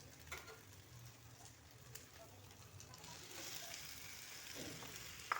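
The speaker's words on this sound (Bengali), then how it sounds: "এখন আমি মাছগুলো এতে দিয়ে দেব।" Giant river prawns frying in a pan of spiced chilli masala give off a faint, steady sizzle with a soft crackle throughout, and a low voice may be heard now and then.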